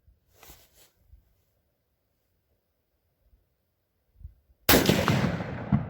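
A Mossberg Patriot 7mm magnum rifle fires once at a target, a single sharp, loud blast near the end that rings out into a broad decaying roar after a few faint quiet sounds.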